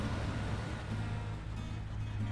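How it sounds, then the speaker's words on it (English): Rear wheels of a truck in the SnowRunner video game churn through water, a dense rumbling slosh over a low engine drone, continuous and close for a brief moment, with no talking. "So you can see the back wheels are churning up the water."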